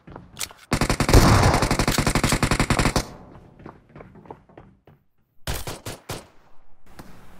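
Rapid automatic gunfire from a second weapon in PUBG Mobile, a dense sustained burst for about two seconds, then scattered single shots and two more short loud bursts, with no talking.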